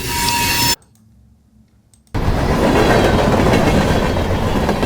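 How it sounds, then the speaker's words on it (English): Train passing over wooden railroad ties, loud and close: a dense rumble with rhythmic clatter, cut off for a moment by a near-silent gap and then resuming just as strongly. "some really clean train recordings"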